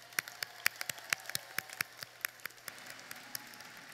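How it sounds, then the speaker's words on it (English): Scattered applause at the Bolingbrook High School 2022 graduation, sparse individual claps ringing out in an uneven, moderately paced patter across a large space. "Let's give yourselves a round of applause."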